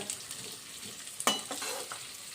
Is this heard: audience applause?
no